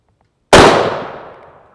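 A single sharp, loud .30-06 rifle shot fired with a Remington Accelerator sabot round at an armor plate, an abrupt crack followed by a long decaying ring and reverberation, with no talking.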